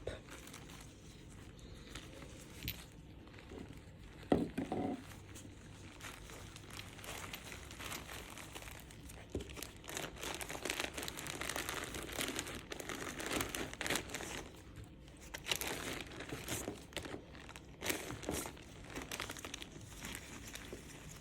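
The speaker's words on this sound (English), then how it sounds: "I'm just going to go in and wrap everything back up" Nail kit supplies, including dappen dishes for monomer and polymer, being wrapped back up in plastic bags, giving close, irregular crinkling and rustling of plastic in soft bursts that come and go throughout.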